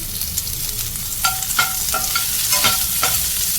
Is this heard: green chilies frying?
yes